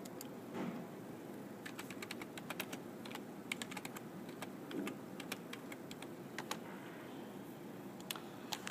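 Rapid, uneven clicking of keys on a computer keyboard, fairly quiet and close, continuing in bursts with no one speaking.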